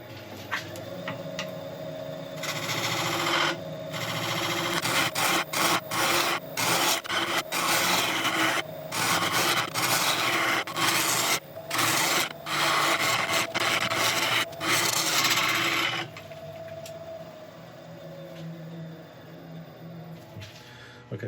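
Gouge cutting a curve into a spinning wood burl on a lathe: a loud, broadband scraping rasp made of repeated bursts with short gaps, which then drops to a quieter motor hum near the end.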